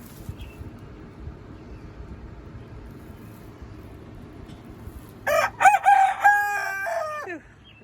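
A rooster crows loudly near the end, a harmonic cock-a-doodle-doo lasting about two seconds after a long stretch of low wind and fan rumble, with a few clucks around it.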